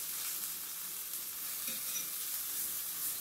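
Breaded mushrooms frying in a pan as the breadcrumbs brown, a continuous soft sizzle and crackle of hot oil with faint shuffling as pieces are turned, no voices.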